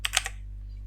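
Keystrokes on a computer keyboard: three quick clicks close together at the start, a pause, then one more near the end, close and fairly quiet over a low steady hum.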